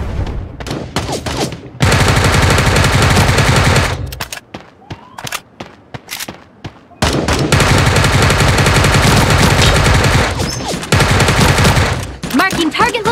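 Heavy automatic gunfire in a shooting video game, long loud bursts broken by quieter gaps with scattered single shots, close and dense, with faint voices now and then.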